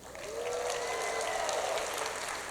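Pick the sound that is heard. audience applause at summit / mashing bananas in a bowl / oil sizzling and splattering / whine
audience applause at summit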